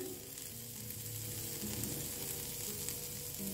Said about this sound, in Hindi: मीडियम फ्लेम पे हम इसको रोस्ट करेंगे